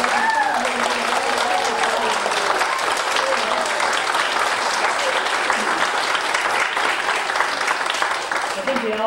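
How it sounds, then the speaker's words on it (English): A Baptist church congregation at a special service gives a long, steady round of applause, many hands clapping densely throughout, with voices talking and calling out underneath. "give a big round of hand applause to all of the young men and women"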